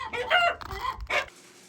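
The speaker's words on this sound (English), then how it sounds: "Now all the chickens are stirred up like something's trying to get in the hen house." Chickens in a hen house clucking and a rooster crowing, a short burst of agitated, close calls that ends abruptly.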